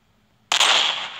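A sniper rifle fires a single sharp, loud shot in a Minecraft guns mod, cracking in abruptly after a brief quiet moment and trailing off in a short noisy tail.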